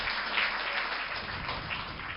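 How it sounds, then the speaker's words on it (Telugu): A church congregation claps in praise to God during a sermon, giving a brief burst of dense, continuous applause with no voices over it. "చప్పట్లు కొట్టి దేవుని స్తోత్రం"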